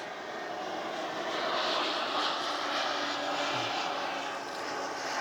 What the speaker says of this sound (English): Sorry about the aeroplane noise.